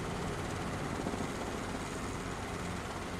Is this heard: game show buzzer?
no